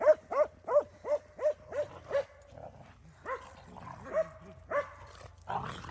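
A dog named Ilva barks outdoors in a field among a pack, with a rapid run of six or seven sharp barks followed by scattered yips and whines, fairly close and loud.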